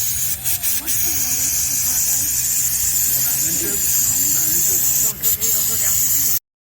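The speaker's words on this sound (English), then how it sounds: "So you can fill up your tires as you go." A Rivian R1T's built-in air compressor inflates a tire with a loud, steady hiss that runs for about six seconds, broken by a few short pauses, then cuts off abruptly. Faint voices can be heard underneath.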